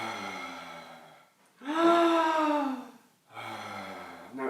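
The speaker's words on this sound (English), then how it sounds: "I'm going to breathe in and out through my mouth." Deep mouth breathing during a kundalini shaking exercise, a long airy exhale with a voiced, tonal edge followed by a breath in, close and loud against otherwise quiet surroundings.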